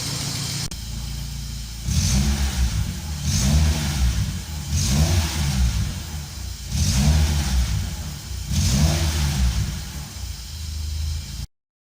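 A BMW E30 engine, freshly fitted with new spark plugs, revs up and settles back about five times in a steady rhythm, loud and close, then cuts off abruptly.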